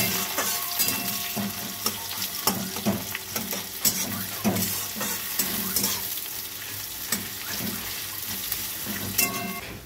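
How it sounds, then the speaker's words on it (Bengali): Thinly sliced onions fry in hot oil, a continuous sizzle broken by repeated scraping stirs, close and fairly loud with no voices. "এই যে পেঁয়াজটা আমার এরকম করে ভাজা হয়ে গেছে।"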